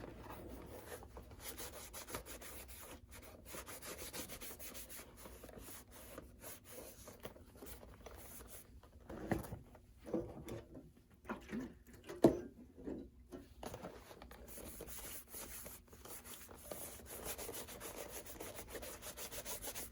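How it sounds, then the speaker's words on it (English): Brushing and scrubbing across the surface of an Allen Edmonds leather shoe during cleaning, a steady dry rubbing rasp that runs throughout, with a few brief knocks and pauses midway. "I'm just trying to clean off the surface of the shoe."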